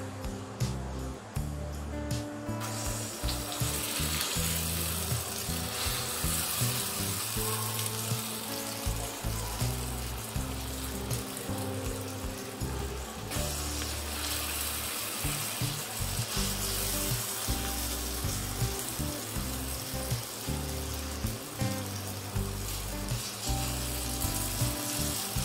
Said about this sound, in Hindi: अब इसमें हम जो है स्पून के हेल्प से बैटर को ऑयल में ऐड कर देंगे।